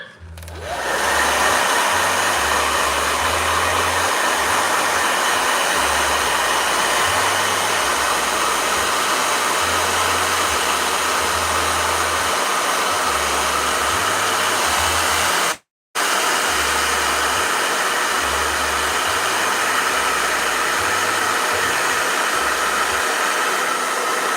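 A blow dryer runs loud and close for about 24 seconds, producing a steady whooshing roar that stops briefly for a split second partway through and then resumes, with no talking.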